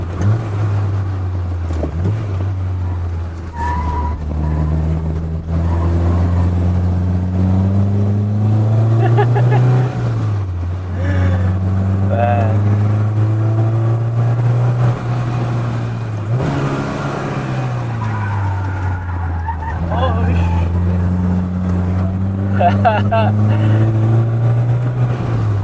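Peugeot 205 GTI engine pulling on a mountain road after an upshift, loud and close, the drone rising in pitch through several gear pulls with brief drops between them, continuous throughout.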